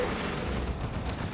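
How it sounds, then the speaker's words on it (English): A lascannon shot fired by a Predator tank at a Leman Russ in the battle game Dawn of War II: Retribution, a sustained loud, dense blast roar filling the whole moment without pause. "Las Cannon shot goes out from the Predator, targeting the Leman Russ"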